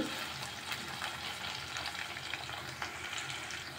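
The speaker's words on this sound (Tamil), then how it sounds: "வெங்காயம் சேர்த்து லோ ஃப்ளேமில் 5 நிமிஷம் ஆகுது" Shallots fry over a low flame in a pan, giving a steady, soft crackling sizzle with a few faint stirring scrapes, close by and continuous with no talking.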